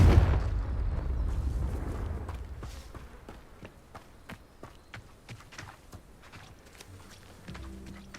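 Confringo blasting spell in Hogwarts Legacy: a loud rumbling blast opening the scene and fading over two seconds, followed by a run of quieter sharp thuds and footstep-like impacts, with low rumble returning at the end.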